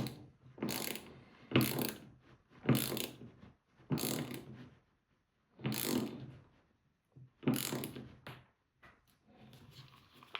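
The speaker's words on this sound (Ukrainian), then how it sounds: "Давайте другий болт закрутимо." Ratchet wrench tightening a bolt on a carbon rod, a series of close rapid clicking bursts in a steady back-and-forth rhythm with short pauses between strokes.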